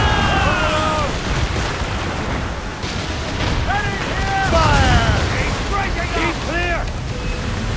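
Ship cannons fire in an Assassin's Creed Rogue naval battle, deep booms rolling over ocean wind and waves while shouted voices and whistling tones carry across the deck.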